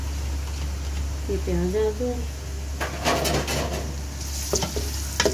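Chopped onions tipped into hot oil for dhaba-style chana dal, breaking into a loud, close sizzle with a few scraping clatters after someone speaks briefly over a steady low hum.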